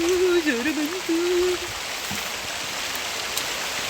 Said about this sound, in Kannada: ಗೊತ್ತಾಗ್ತದೆ ಮಳೆ ಬರ್ತುಂಟು ಅಂತ